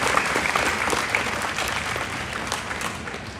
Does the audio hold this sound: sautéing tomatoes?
no